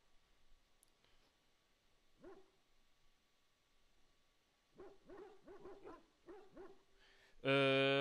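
A video game dog barks in quick bursts, a single yelp first, then a rapid string of six or so barks, against quiet background with clicks and a sudden bright electronic tone at the end.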